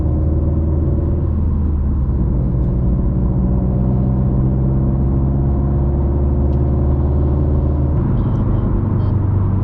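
Subaru engine on flex fuel under steady throttle while being street tuned, coming into turbo boost: a loud, continuous close-up drone and rumble from inside the car, holding an even tone with a slight shift near the end.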